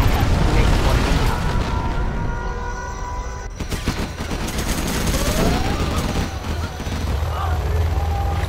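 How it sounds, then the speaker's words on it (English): Nuclear missile strike in Command & Conquer: Generals Zero Hour, a heavy sustained roar and rumble with crackling bursts and distant gunfire, loud and continuous throughout. "We have launched our nuclear missile."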